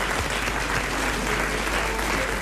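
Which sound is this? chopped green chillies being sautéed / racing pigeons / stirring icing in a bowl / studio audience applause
studio audience applause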